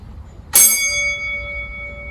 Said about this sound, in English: Call attention, 1 beat of the bell.